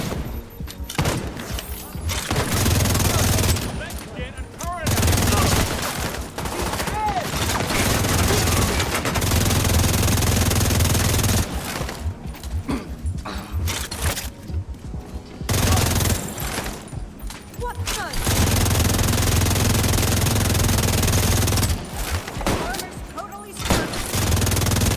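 Dense automatic gunfire from The Division 2 shooter game, heavy rapid bursts with thuds and booms filling nearly the whole stretch, broken by a few short pauses between volleys.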